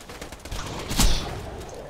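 Gunfire from a weapon in the shooter game Borderlands 2, one sharp burst standing out over a steady wash of game background noise.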